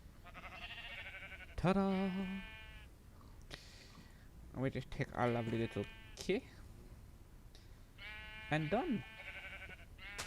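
Minecraft sheep bleat in several wavering cries spread across the clip, loud and close, with someone talking between them.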